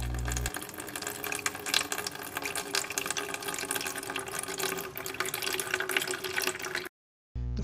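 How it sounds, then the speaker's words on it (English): Unobstructed water streams from a nozzle into a hydroponic container, a steady close hissing gush that runs continuously before cutting off abruptly near the end. "This is the unobstructed water flow."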